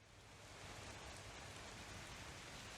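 Steady, dense rain hisses throughout as a constant, close wash of noise, playing as background ambience during a Curse of Strahd tabletop role-playing session, with no voices heard.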